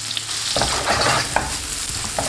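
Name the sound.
onions frying in butter in a pan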